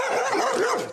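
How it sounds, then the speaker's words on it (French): A muzzled dog lets out one short, strained, muffled bark near the listener on a street in Taiwan. "Ah bah encore un chien muselé."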